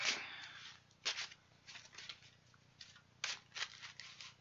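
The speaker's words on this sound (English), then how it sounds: "And then I'm going to shuffle the other deck." A deck of Magic the Gathering cards is shuffled by hand, giving quiet brisk riffling bursts, about six or seven short flutters separated by brief pauses, with no talking.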